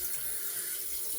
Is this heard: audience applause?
no